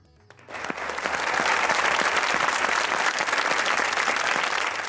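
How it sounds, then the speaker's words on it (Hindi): A crowd breaks into full, dense applause for a poet taking the stage at a comedic poetry gathering, building quickly and holding steady and loud. "आपकी भरपूर तालियों में तशरीफ लाते हैं जनाब खालिद मसूद।"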